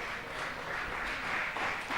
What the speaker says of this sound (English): I don't know if you can hear the applause coming through in the background